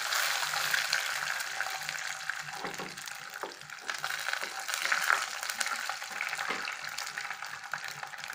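Curry leaves and peanuts go into hot oil for a vermicelli upma breakfast, producing a steady, close crackling hiss that carries on without a break and without talk.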